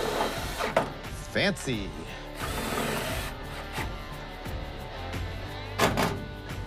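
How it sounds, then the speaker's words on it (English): A tech screw is driven into a steel bracket while a seat is mounted in a 440-powered car, heard as a few short mechanical whirring bursts between stretches of close talking. "now I am going to tech screw it right there"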